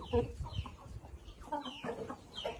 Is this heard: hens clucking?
yes